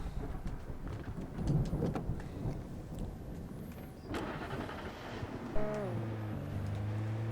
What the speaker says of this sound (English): that storm we all felt coming is finally here